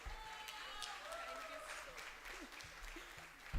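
Applause from an audience at a women's event of an engineering society, steady clapping throughout with some voices in the crowd, fairly faint and distant.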